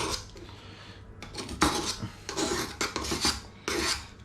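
Hand file rasping across the blade of garden secateurs held firmly, in several close, scraping strokes with short pauses between them, and no talking.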